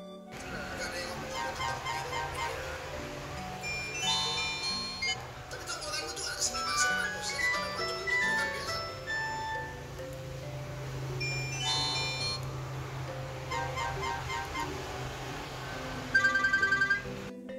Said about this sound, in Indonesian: Kita akan koreksi dulu di bagian suara nada deringnya teman-teman